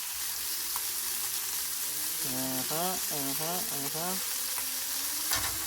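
Chicken thighs sizzle and fry in a pan with a steady, fairly quiet crackle, and a few brief tonal squeaks rise over the sizzle midway.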